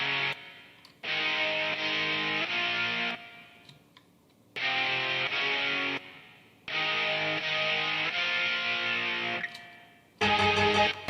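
Distorted synth chord with an OTT compressor, the low end trimmed and a distorted guitar layered in, from a pop production. It plays in three long sustained blocks separated by short gaps, then returns briefly at the end, loud with no voice.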